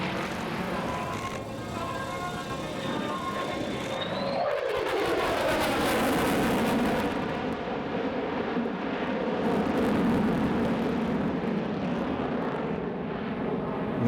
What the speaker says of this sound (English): One last solo pass by the F-35